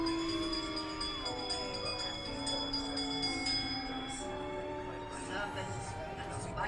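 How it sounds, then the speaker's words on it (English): Bell chimes ring on the Haunted Mansion dark ride at Disneyland, bright tones sounding steadily beneath continuous narration and ride music. "give us a hint by ringing a bell"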